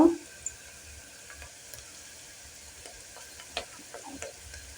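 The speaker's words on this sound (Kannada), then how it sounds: "ಬ್ರೌನ್ ಕಲರ್ ಬರಬೇಕು ರೀ ಕೆಂಪಾಗುತ್ತಾನೆ ಹಿಂಗೆ ಫ್ರೈ ಮಾಡಬೇಕು ರೀ" Onion fries in a pan until browned, a soft steady sizzle with a few sharp scrapes and ticks from stirring scattered through, quiet and close.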